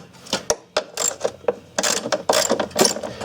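A 10 mm socket ratchet loosening the battery hold-down strap nuts on a 2016 Ford Escape, giving close, bursty clicking runs of the pawl with brief pauses between strokes and no talking.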